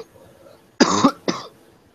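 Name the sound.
cough while practicing diaphragm breathing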